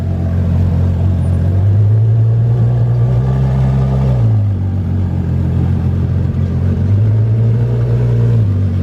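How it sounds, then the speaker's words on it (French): A car fitted with an IPE exhaust with its valves closed idles with a deep, steady low rumble and rises twice into brief revs, loud and close throughout with no voices. "Sachant que c'est un échappement IPE, c'est censé faire beaucoup de bruit."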